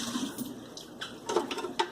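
Leftover vinegar pours out of a Keurig coffee maker's water reservoir into a sink, a soft steady splashing trickle with a few louder gurgles, heard alone.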